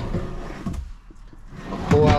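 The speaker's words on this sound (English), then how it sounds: "pull out drawer" A pull-out drawer in a 2024 Lance 1172 four-season truck camper slides open with a short, close scraping glide and a soft knock, and a voice is briefly audible near the end.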